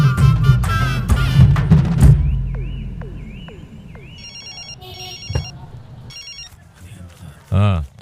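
A mobile phone rings with a repeating electronic ringtone, heard after a burst of voices and clatter, fairly close and clear with brief pauses between rings.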